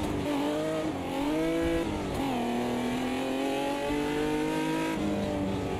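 A Stock 99 race car at Laguna Seca in the racing game Automobilista 2, its engine droning steadily with pitch rising and falling through revs and gear changes, sustained and continuous with no talk.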